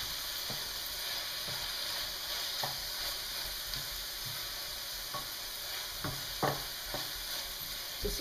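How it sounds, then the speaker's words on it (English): Cooked brown rice pasta tossed into a pan of sizzling salmon, a continuous soft frying hiss with occasional scraping stirs and light clinks, fairly quiet and without speech. "all you're going to do is take your cooked pasta and just toss it right in this"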